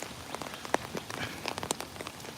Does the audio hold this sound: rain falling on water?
yes